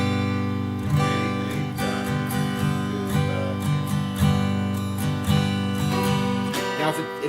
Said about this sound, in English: When you do that all together, it sounds like this.